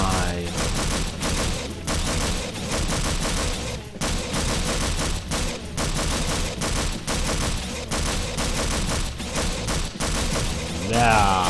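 A gauss gun fires in the video game Half-Life 2D as a loud, relentless stream of rapid, crackling shots with only brief breaks.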